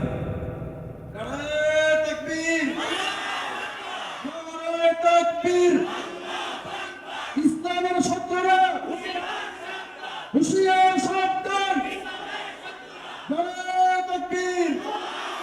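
A large crowd at an Islamic sermon in Sylhet chants the slogan Nara-e-Takbir in loud unison, answering a leader's call in repeated rhythmic bursts that rise and fall over a steady roar.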